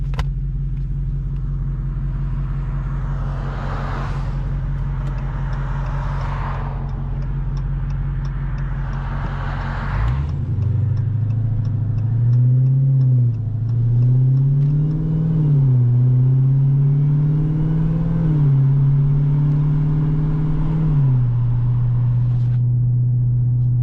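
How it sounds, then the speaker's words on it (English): A Dodge Hellcat Redeye on new Weld beadlock wheels rumbles at low speed, then its engine swells into a loud, steady drive with rising and falling revs heard from inside the car, and no one speaks. "take these tires out and see how the car rips on the new setup"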